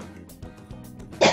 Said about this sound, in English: Sorry that I keep coughing.